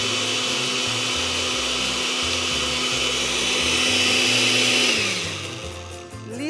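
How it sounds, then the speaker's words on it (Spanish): A kitchen blender runs steadily at close range, blending ingredients for a traditional Christmas picana, with a continuous loud motor whir that shifts pitch and eases down near the end. "Vamos a licuar."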